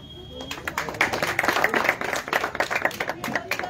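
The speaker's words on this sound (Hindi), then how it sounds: "आइए और तालियों से नवाजिए" Crowd at an AIMIM public rally in Ambajogai claps to welcome a guest, an uneven, lively patter of hands that builds and carries on, with voices in the background.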